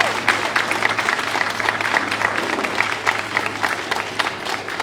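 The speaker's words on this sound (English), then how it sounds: "Can you please give them a round of applause?" Applause from an audience at a Mount Vernon city council event, a steady dense wash of many hands clapping together, loud and sustained without a break.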